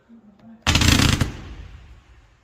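A firework cake labelled a purple mine fires off, a loud burst of rapid crackling shots over about half a second, then a fading rumble and hiss. A faint voice is heard just before.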